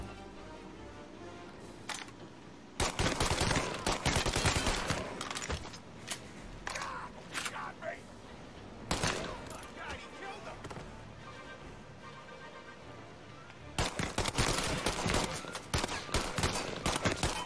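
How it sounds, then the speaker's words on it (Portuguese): Gunfire in the video game Mafia: Definitive Edition, with rapid bursts of shots in several loud clusters separated by quieter gaps, the heaviest volleys arriving near the start and again near the end. "os caras tomam 35 tiros e não morrem"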